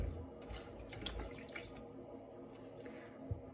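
Tap water runs and splashes as hands are wetted while shaping homemade Kazakh bread dough, a soft, short, close trickle with light spattering and a small knock near the end.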